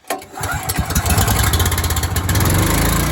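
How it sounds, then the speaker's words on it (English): Small gas engine on a pressure washer fires up with a quick cranking burst, then settles into a loud, steady idle with a fast, even rhythm close by. "Choke on, engine on."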